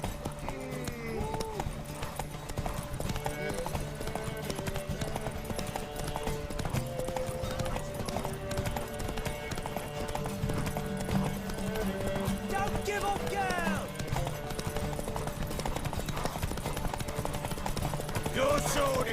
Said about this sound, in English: Want that horse, don't ya?